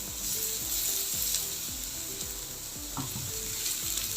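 Finely chopped garlic frying in hot oil with cinnamon in a pan, a continuous soft sizzle with occasional stirring clatter, close and alone without talk.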